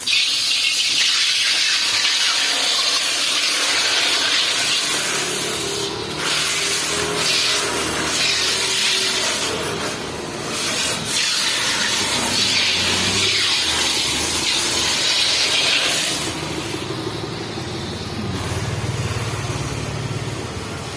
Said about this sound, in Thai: แล้วลงซิงค์ราดน้ำไปเลยนะครับ ชุบแข็งครับ